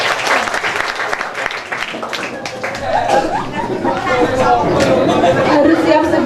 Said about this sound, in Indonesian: Ya udah kasih tepuk tangan aja deh